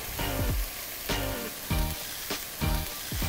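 Rice and drained tuna sizzle loudly in a frying pan, steady hiss with four rhythmic bursts of stirring and tossing, close and without speech.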